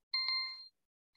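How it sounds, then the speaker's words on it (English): A mobile phone rings during a conference presentation, giving one short bright electronic ring tone of about half a second with a sharp start, then a brief second burst just beginning at the end, heard clearly with no talking. "I don't know why my phone won't stop ringing"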